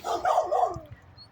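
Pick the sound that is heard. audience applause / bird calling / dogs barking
dogs barking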